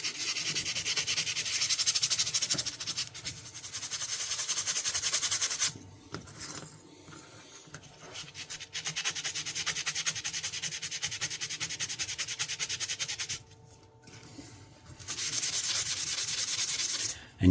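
Hand sanding of a vintage knife blade with fine-grit paper, moving from 800 up through 2500 and 7,000 grit, makes soft rhythmic rasping strokes in long runs broken by short pauses, close and fairly quiet.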